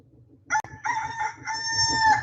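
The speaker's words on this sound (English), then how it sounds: "I'm just not ready to bring this rooster inside yet." A rooster crows outdoors in the cold, one loud, close cock-a-doodle-doo stretching across most of the moment after a short sharp click.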